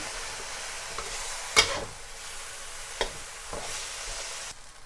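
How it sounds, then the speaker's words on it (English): Rice being stir-fried for Chinese fried rice, broken up in a hot pan with a spatula: a soft continuous sizzle punctuated by several sharp scraping clacks and stirring knocks, close and fairly quiet. "you can add in your rice and just break that up"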